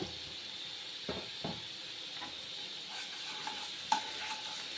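Ginger and garlic fry in a little oil in a pan as a faint, thin hiss, broken by a few soft stirring taps and one sharp little clink near the end.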